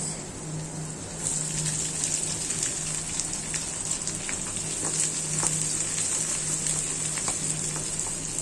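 Chopped onions hit hot oil in a pan for a taro mash, setting off a steady, close frying sizzle with bright hiss and scattered crackles that swells after the first second and holds evenly, with no talking.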